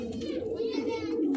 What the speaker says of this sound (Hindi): ये देखें आप बहुत ही उम्दा बहुत ही खूबसूरत कबूतर हैं